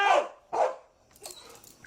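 A police K-9 dog barks twice in quick, sharp succession at close range, followed by fainter, scattered background noise from the scene.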